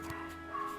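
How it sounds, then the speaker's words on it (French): Excited dogs downstairs give a faint, distant yelp or whimper in a short burst, muffled by the floor and heard alone in a quiet room. "y a les chiens en bas qui s'excitent"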